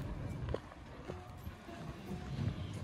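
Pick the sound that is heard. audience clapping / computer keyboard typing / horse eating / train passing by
horse eating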